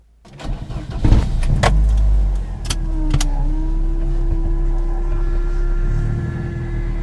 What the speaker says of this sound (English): You can hear the high pressure pump.